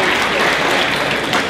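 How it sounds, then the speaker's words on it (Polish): Sustained applause from an audience at a regional sports champions gala in Lublin, steady and close throughout with a faint hint of voices beneath. "Brawa dla pani dyrektor i dla gimnazjum nr 16."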